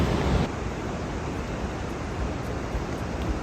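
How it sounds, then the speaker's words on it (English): Heavy rainy-season torrent at La Fortuna waterfall, Costa Rica, a steady broadband roar of falling water, loud and continuous throughout with a slightly louder burst at the start and no talk. "That is the La Fortuna waterfall. Lots and lots of water."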